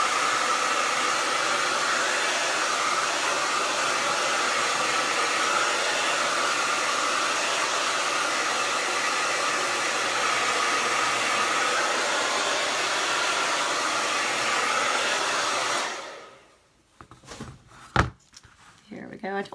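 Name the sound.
hair dryer drying Mod Podge on chalkboard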